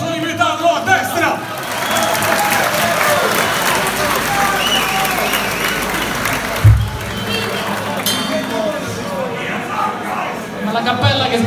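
Audience applause and cheering at a live rock show in a Rome club, a dense sustained wash of clapping and crowd noise running almost the whole time, with a brief thump partway and voices mixed in.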